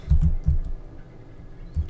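Mouse buttons clicking on a computer, a few close, dull taps in a quick irregular cluster followed by a pause and another click.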